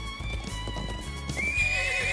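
A horse neighs and its hooves clip-clop steadily in the video game Trails of Cold Steel 3, with game music playing underneath at moderate volume.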